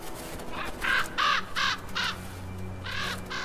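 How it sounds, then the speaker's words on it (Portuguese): Ravens calling at carcasses in harsh winter cold: a run of about four loud, hoarse caws in quick succession, then a pause and another call near the end, over a low steady background. "Um banquete para os corvos."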